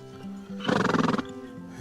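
A horse on a Mongolian trek lets out a loud, close whinny with a rapid quavering flutter, against a quiet outdoor background with a steady low hum.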